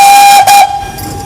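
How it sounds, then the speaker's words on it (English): A loud Vale of Rheidol Railway steam locomotive whistle blows close by, a sharp sustained tone with hissing steam, cutting off after about half a second into lingering hiss. "There's our whistle."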